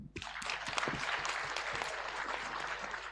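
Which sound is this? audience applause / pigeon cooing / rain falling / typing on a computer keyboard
audience applause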